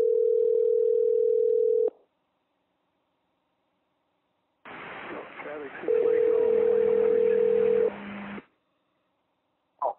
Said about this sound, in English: So let's give Steve a call